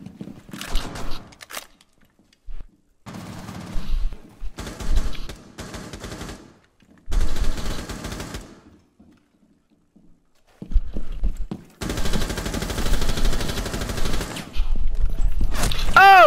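Rainbow Six Siege gunfight with bursts of rapid automatic fire in several separate volleys, separated by quiet gaps, plus a longer sustained burst near the end; occasional faint voices.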